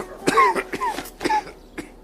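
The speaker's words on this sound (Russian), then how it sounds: "Ты бы кашлял в другую сторону." A man coughs several times in quick succession, close and fairly loud, a run of harsh bursts followed by one more short cough after a pause, in an indoor setting.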